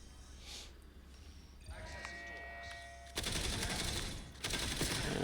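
Rapid gunfire from the Black Ops 7 video game, a dense crackling burst of automatic shots that grows louder and busier in the second half, close and sustained with no talk.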